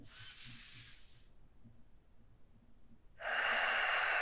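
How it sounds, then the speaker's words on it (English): Deep, full breath during a post-workout yoga cooldown: a long hissing exhale that fades out, a quiet pause, then a strong, breathy inhale, close and soft, with no speech. "Last deep full breath here."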